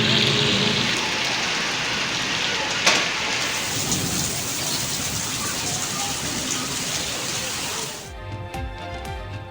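Heavy monsoon rain pours down in Pakistan, a loud, dense, steady hiss with a sharp thunder crack early on. The downpour cuts off abruptly near the end, leaving faint tones.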